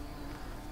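Wasps hover and buzz around sugar syrup feeders after sunset, a faint, steady droning hum that carries on unbroken with no voices.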